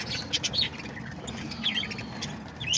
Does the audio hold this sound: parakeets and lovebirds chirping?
yes